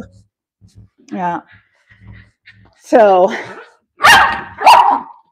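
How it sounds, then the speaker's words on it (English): A dog barks twice, loud and close, in a home kitchen setting. Speech comes just before the barks. "No barking. No barking."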